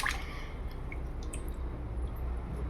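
Water runs and drips into a vessel of washed rice being soaked for idli batter, a steady close trickle with splashy drips and no talking.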